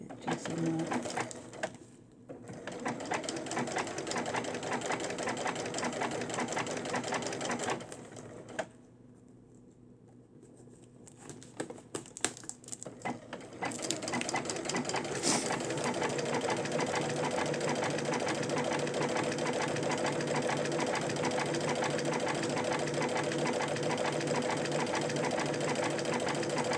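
A home sewing machine running a back-and-forth stitch across fabric makes a steady, fast mechanical whir that briefly pauses and then resumes, close by, with faint background chirping.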